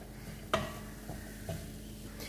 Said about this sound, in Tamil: இது எல்லாத்தையுமே நம்ம லைட்டாக வதக்கிக்கிட்டால் போதும்.